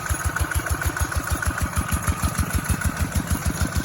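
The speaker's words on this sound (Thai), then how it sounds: "ดูครับฝั่งนู้นก็รถไถใหญ่ครับฝั่งนี้ใช้รถไถเล็กครับ" A tractor engine chugs steadily nearby in a rice paddy field, with a fast regular knocking pulse and a constant mechanical drone.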